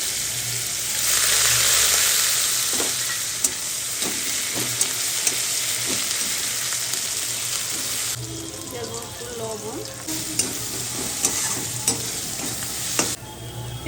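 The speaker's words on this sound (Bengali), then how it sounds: "ফোড়নে দিয়ে দিলাম শুকনো লঙ্কা এলাচ লবঙ্গ আর ফোড়নটা হয়ে গেছে এবার দিয়ে দিচ্ছি কুচি করা আদা" Chopped ginger sizzles in hot oil with dried red chilli, cardamom and cloves, a steady frying crackle with spoon scrapes and stirring clatter, and someone speaks softly over the cooking.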